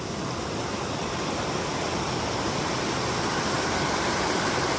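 A creek in the mountains rushes steadily over rocks, a constant broadband hiss of flowing water that is even, moderately quiet and unbroken throughout.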